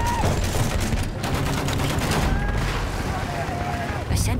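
Rattling machine gun fire with distant battlefield booms in a hardcore match of Battlefield 1, steady bursts under a busy soundscape while a voice speaks faintly.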